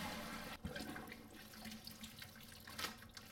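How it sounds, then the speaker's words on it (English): Cooking water poured off boiled pasta into a sink, a steady close rush of running water with a few splashes and gurgles and no talking. "Now we drop the water. We gotta drop the water, we make us with the beans."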